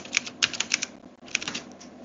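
Quick bursts of keystrokes clatter on a computer keyboard, two short clusters of crisp clicks separated by a brief pause, close and clear with no talk.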